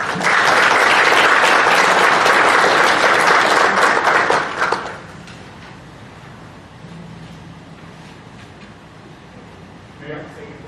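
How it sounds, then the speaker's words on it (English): A city council meeting audience gives a loud round of applause for about five seconds, dense steady clapping that cuts off abruptly into quiet room noise, with a faint later murmur. "Let's give them a round of applause"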